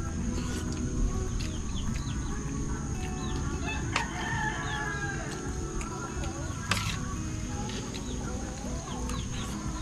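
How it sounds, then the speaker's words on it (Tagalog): Rooster crowing on a Filipino rural homestead, with repeated calls and clucks against a constant din of other chickens and birds, plus a couple of sharp taps in the background. "Ang tandang."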